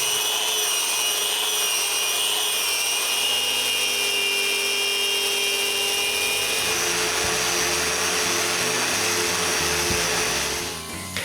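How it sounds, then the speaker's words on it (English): A power sander works over a wooden bathroom vanity top, a dense continuous whirring drone, loud and close for the whole stretch with a gritty texture, no one talking. "I need to sand it again."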